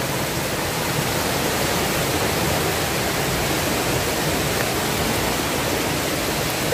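A waterfall pours in the rain at Penedo, Rio de Janeiro: a steady, dense, broadband rush of falling water that stays constant and close throughout with no speech.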